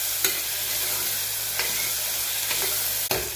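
Chopped tomato being stirred into dal in a hot pan, with a steady sizzle of frying underneath and a few distinct scraping stirs of the spoon against the pan, heard alone with no talk.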